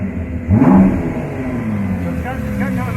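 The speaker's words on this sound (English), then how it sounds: "The engine is super loud." The engine of a 2019 Ford GT Heritage Edition revs in one sharp, loud burst up close, then drops back to a steady, rumbling idle.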